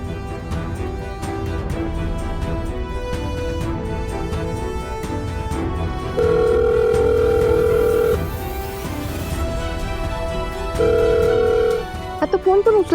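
A telephone rings in two long electronic bursts over a continuous background of music or drama score, with a brief rattle at the very end and no clear talking.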